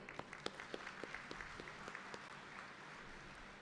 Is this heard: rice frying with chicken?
no